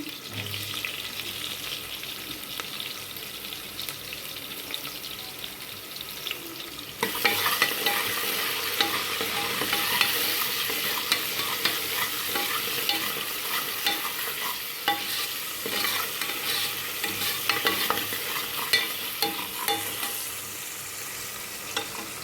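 Onions sautéing with a pinch of salt in a pan for a Thoothukudi-style goat lung gravy: steady close sizzling and frying with scraping stirs, growing louder after a few seconds, no talking.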